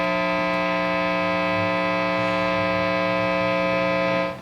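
Steady electrical hum from the single-coil pickups of a Fender Stratocaster electric guitar through an amplifier, a constant buzzing drone with strong layered overtones that holds evenly and cuts off near the end.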